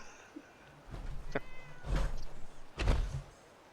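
A cat meows off screen several times in the video game Fallout 4: Far Harbor, with short, moderately loud calls spaced about a second apart over faint background ambience.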